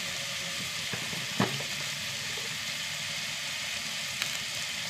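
Chopped tomato sautés in a pan with spice powders, giving a soft, even sizzle at low level with a couple of faint clicks from stirring.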